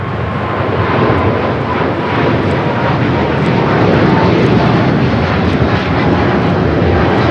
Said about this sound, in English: This is Cathay Pacific 885 taking off to Hong Kong